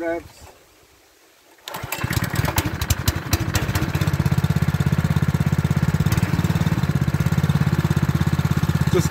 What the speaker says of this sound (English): choke on, a little bit of revs.